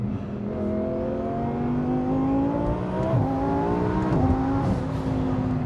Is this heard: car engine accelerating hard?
yes